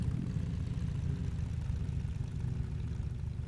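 Steady low engine rumble from a vehicle in the Scrap Mechanic game, running continuously at an even level with no speech over it.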